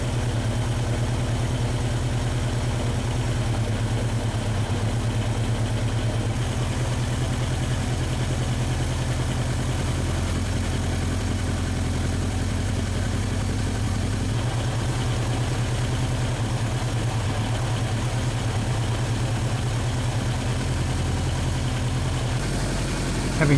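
Suzuki air-cooled 16-valve four-cylinder motorcycle engine idling steadily during carburettor synchronisation, a close, constant low throbbing rumble with a slight shift in tone partway through, no voices.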